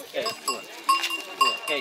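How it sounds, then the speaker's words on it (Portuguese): Young pure Anglo-Nubian kid goat at a livestock fair in Sertânia, bleating in a few short calls close by amid people talking. "Que raça é esse cabrito?"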